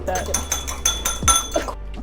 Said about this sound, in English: I'm gonna crack open this eggie to create our egg wash for the top of the pastry